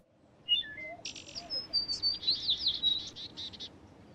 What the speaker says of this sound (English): maybe that was just a bird